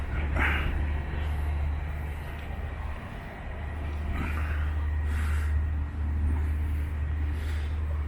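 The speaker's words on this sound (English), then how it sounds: "There's a bit of noise from the motorway." Motorway traffic with lorries hums as a constant low rumble in the distance, steady throughout with a few faint passing swells at a picturesque stopover near Astigarraga, Spain.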